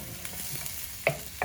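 Onions frying in a pan while being stirred, a soft steady sizzle with a couple of sharper scrapes near the end of a short moment.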